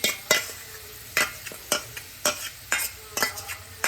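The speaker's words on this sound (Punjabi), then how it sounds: "ਆਪਾਂ ਚਮਚ ਦੇ ਨਾਲ ਇਹਨੂੰ ਸਾਰੇ ਕੁਛ ਕੜਾਈ ਦੇ ਵਿੱਚ ਪਾ ਦਾਂਗੇ" A spoon scrapes and stirs a paneer dish in a sizzling kadai, giving about eight regular, close strokes over a soft frying hiss.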